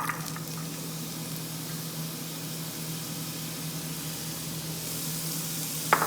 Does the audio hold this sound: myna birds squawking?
no